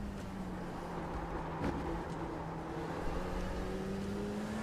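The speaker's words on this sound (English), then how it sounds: "This is an LMP2 car." An LMP2 prototype race car in iRacing holds a steady, droning engine note that slowly rises in pitch, loud and continuous, with a brief harsher moment partway through.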